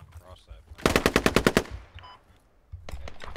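Rapid machine gun fire in a shooter video game: a tight burst of about eight loud, evenly spaced shots, a short lull with faint clatter, then another burst starting near the end.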